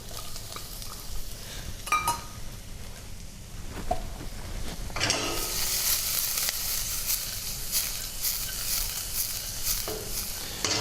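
Vegetables stir-fry with garlic and ginger seasonings, a close, continuous sizzle with scraping stirs that suddenly swells to a loud, bright hiss about halfway through and stays loud to the end.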